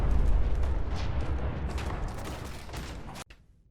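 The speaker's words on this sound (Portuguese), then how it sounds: "eu só liguei o VATS, fiquei umas 3 vezes lá pra arma antimaterial, um sniper antimaterial, e eu explodi o Kellogg" Antimaterial sniper rifle shots fired in VATS in Fallout 4, heavy booming blasts that roll together into a dense, loud barrage for over three seconds, then end abruptly with a brief trailing thud.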